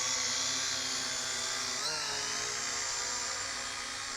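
Syma X8 clone FPV quadcopter motors whining loudly and steadily at close range, the high-pitched buzz shifting briefly in pitch midway and then easing slightly as the throttle comes off.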